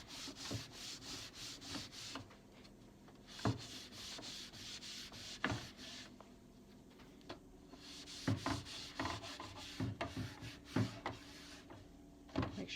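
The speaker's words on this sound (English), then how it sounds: "you're trying to buff it out" Excess wax is buffed by hand off chalk-painted wood with a cloth, producing quiet repeated rubbing strokes and dry scuffs in an uneven rhythm, close by and with no talk.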